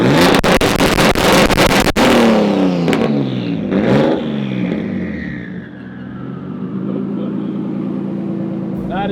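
A 1000hp-plus BMW 335i with a built motor, big single turbo and manual gearbox revving hard on launch control: loud, close, stuttering engine bursts and a rising, wavering drone that eases into a steady roar.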